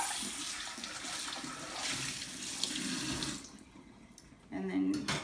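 Tap water runs steadily into a sink while dishes are rinsed, a loud continuous splash that cuts off partway, followed by a brief renewed gush and some handling sounds.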